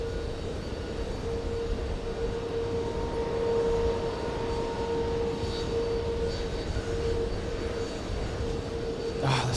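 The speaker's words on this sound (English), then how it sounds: "Finnair, is it coming in? Let's see. Yes, there it is, coming in." A Finnair airliner approaching to land at JFK makes a sustained jet rumble and whine with a steady mid tone, holding constant and moderately near, ending with a brief sharp sound and no talking.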